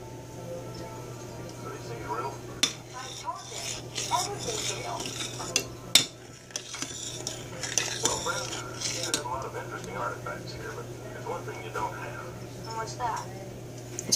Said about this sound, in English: Stirring it like oatmeal.